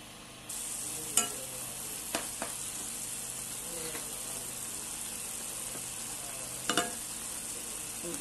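Okoro with bitter leaf, diced onions, salt and seasoning cube cooks in a covered pot, making a soft steady sizzle and bubbling with a few sharp clinks and taps, quiet and close with no talking.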